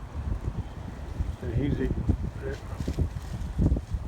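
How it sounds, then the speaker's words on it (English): Steady wind gusting across an open farm field with cattle nearby, a broad rushing roar buffeting the microphone throughout, while someone speaks briefly over it. "too windy today for that"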